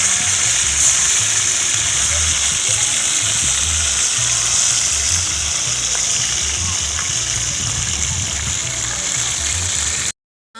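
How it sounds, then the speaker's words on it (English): Continuous crackling sizzle of fish frying in hot oil outdoors in Jamaica, loud and close, holding steady before cutting off abruptly near the end. "The fish is almost finished now, so when it's finished frying now"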